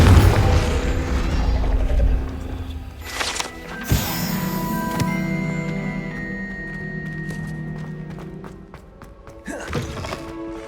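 A Confringo spell blast in the Hogwarts Legacy video game, a loud booming impact followed by a couple of thudding hits and ringing magical tones, with no voices.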